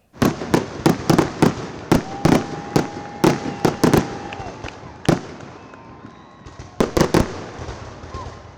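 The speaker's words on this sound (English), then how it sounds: "the city of El Segundo celebrated 4th of July with a fireworks spectacular at Recreation Park for the community to enjoy" A Fourth of July fireworks show at Recreation Park in El Segundo, with loud, sharp bangs in quick irregular succession, whistling rockets rising between them, and crowd noise underneath.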